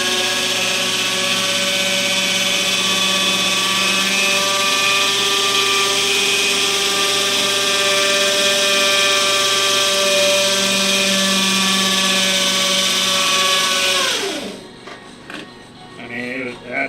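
A power drill runs at steady high speed for about fourteen seconds, its whine dropping in pitch as it winds down and stops, followed by quieter shop noise.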